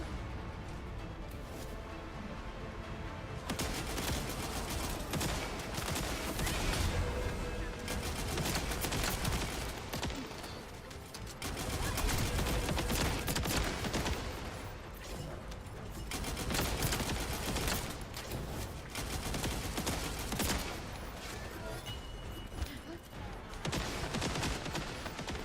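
Sustained bursts of automatic gunfire in a video game as a stalled specialized aircraft is shot down, loud rattling volleys with short lulls over a long stretch, mostly without talk.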